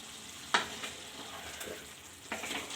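Chicken with chili powder fries in a pan, a constant close sizzle broken by two distinct scraping stirs, with no voices.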